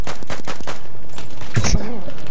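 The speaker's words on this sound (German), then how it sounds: "ich werde beschossen von hinten" Gunfire in the Battlefield 1 multiplayer video game, a sharp burst of shots around the middle of the clip after a quieter stretch of game noise, with the player under fire from behind.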